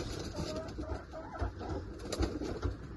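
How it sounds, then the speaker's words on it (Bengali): Senior and Punjabi pigeons kept for sale coo in low, repeated throaty pulses, fairly close and steady over a background murmur, with no clear talk. "সিনিয়র পায়রা, আর পাঞ্জাবি পায়রা"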